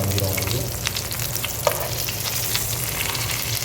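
Mutton brain pepper fry sizzles steadily in a hot pan in a roadside-stall style kitchen, a dense, close crackle with a faint stir or scrape partway through.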